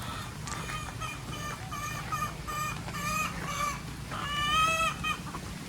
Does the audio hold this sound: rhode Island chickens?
yes